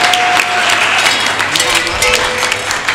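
An audience at a live Punjabi comedy show clapping, a loud sustained burst of applause with a voice talking over it.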